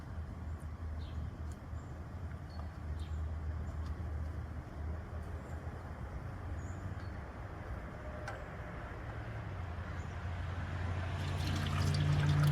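Fluid trickles and drips from a 1948 Farmall H tractor into a pan, a faint steady dribble over a low background rumble that grows louder near the end.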